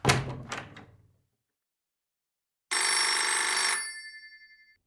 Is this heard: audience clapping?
no